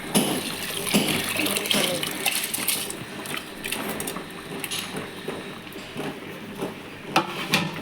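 Water pours steadily into a pot of basmati rice for mushroom biryani, a continuous splashing, gurgling stream that runs close and fairly loud for several seconds, with light clinks near the end.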